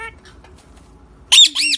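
A pet parrot lets out two loud, shrill squawks close to the mic near the end, after a stretch of quiet background murmur.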